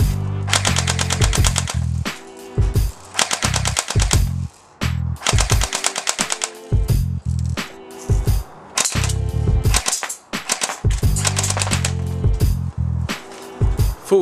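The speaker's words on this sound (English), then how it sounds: "Full automatic Airsoft BB gun, that's the D90H." D90H R9 gravity-fed full-auto airsoft BB gun firing long rapid bursts, loud close mechanical rattling volleys separated by brief silent gaps.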